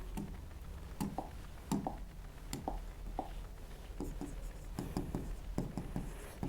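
Chalk or pen strokes tapping and scratching across a board during an engineering mechanics lecture, in short irregular bursts with quiet pauses between them.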